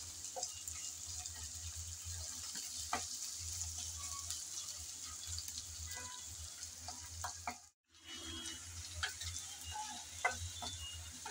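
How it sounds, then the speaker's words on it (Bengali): Ginger, garlic and onion sizzle in hot oil in a pan while being stirred, a quiet steady fry with faint scraping ticks of the spoon and one brief dropout, no talk. "আবারও নেড়েচেড়ে ভালো করে ভেজে নিতে হবে, যাতে আদা রসুনের কাঁচা গন্ধটা চলে যায়।"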